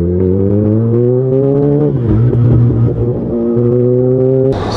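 2020 Kawasaki Ninja ZX10R motorcycle revving close by on a test ride, a loud, tonal engine note that holds, drops and climbs again through several rev changes before cutting off abruptly.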